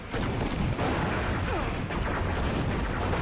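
Grenade launcher fire in Halo Reach, heard as dense, continuous booming battle noise at steady loudness with no pauses.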